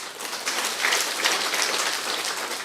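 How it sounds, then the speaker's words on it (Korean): A church congregation at a Sunday service claps for the choir, making a dense, even roar of many hands. It is sustained at a fairly loud level from start to finish, with no talking. "할렐루야 찬양대 위해서도 박수 한번 합시다."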